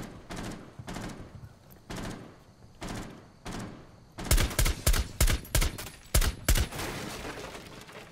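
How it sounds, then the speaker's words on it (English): Bursts of gunfire in the tactical shooter Rainbow Six Siege, first spaced single shots, then a louder run of rapid heavy shots, close and sharp, with no talk over them. "That's good suppressive fire."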